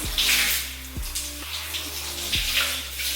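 Tap water runs steadily over hair as it is soaked to test a styling gel's hold, a continuous close splashing gush with a few low thumps from movement beneath it and no talk.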